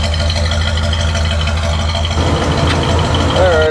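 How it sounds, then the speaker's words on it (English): A 1981 Cadillac Sedan Deville's blower motor pushes air through the dash vents as a loud, steady whooshing hum with a low engine drone beneath, shifting in tone partway through. "So we're blowing out the regular vents right now."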